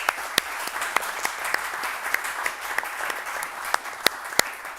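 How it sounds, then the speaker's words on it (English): A room of attendees at a public-sector mobility pitch breakfast in Miami applauds panelists: sustained moderate clapping with several loud, sharp individual claps standing out near the listener. "A big round of applause for our panelists."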